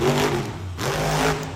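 A monster truck engine revs loudly while the truck drives on three tires after a popped tire at a muddy Miami, Oklahoma show, a steady roar that dips briefly and climbs again.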